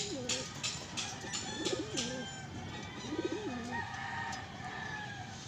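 Pigeons coo repeatedly in rolling, throaty calls, fairly close, over a constant background murmur.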